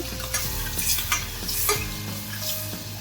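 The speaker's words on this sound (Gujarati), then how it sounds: "અને સારી રીતે હલાવી લેવાનું છે આ આપણી ગ્રેવીનો પહેલાં વઘાર કરવાનો છે" Tomato gravy being stirred as it fries in a pan for stuffed brinjal curry: continuous close sizzling with repeated scraping stirs of a spoon against the pan, no speech.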